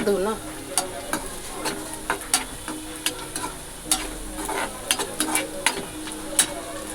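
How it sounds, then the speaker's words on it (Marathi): Chopped onion frying in a pan while being stirred, with a steady sizzle under repeated sharp scrapes and clinks of the spoon through the pan throughout. "इथे जवळपास माझा कांदा गुलाबी भाजलेला आहे"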